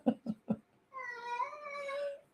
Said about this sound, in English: Oh my gosh, you can hear the cat.